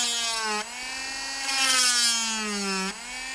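Power drill whirring steadily as it bores into a handmade garfish swim-bait lure, a close, continuous motor whine that dips in pitch twice as the load changes, with no talking.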